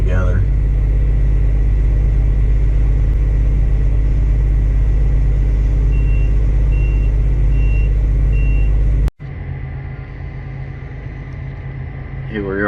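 A dump truck drives over a fresh lift of dirt to compact a pond dam: a loud, close, steady engine rumble with intermittent reverse-alarm beeps. After an abrupt cut, a quieter engine drone continues.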